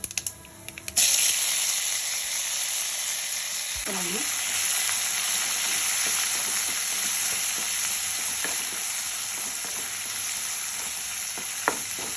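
Coriander leaves, curry leaves and tomato with chana dal and urad dal fry in a hot pan, giving a loud, steady sizzle throughout with faint stirring scrapes and no talk.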